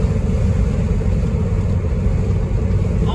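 A car driving through city streets, heard as a steady, close engine rumble with road noise that holds at an even level throughout, no voices.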